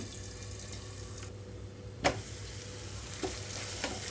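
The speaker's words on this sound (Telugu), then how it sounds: "ఉల్లిపాయలు కొంచెం వేగిందండి" Sliced onions and green chillies fry over a medium flame, a soft steady sizzle in the pan broken by a couple of sharp spatula clinks and scrapes, close by with no voices.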